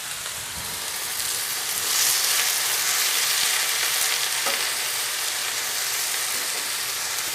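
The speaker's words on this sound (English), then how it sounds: "Got a little sizzle going." Food sizzles and crackles steadily in a hot pan, a constant hissing fry with a few soft clinks of stirring, no voices.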